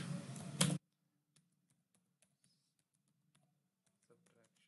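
Code is typed on a computer keyboard: after a brief loud burst at the start, a scattering of soft, faint key clicks follows in a quiet room, irregular and close by.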